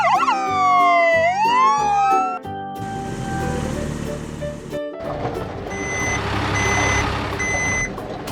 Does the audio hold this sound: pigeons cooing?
no